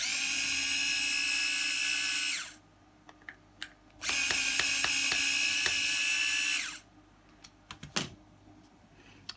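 Screws being backed out of the swivel wheel mechanism on a Bugaboo Bee stroller with a cordless screwdriver, two steady high whirring runs of a few seconds each, close, followed by small clicks and handling taps.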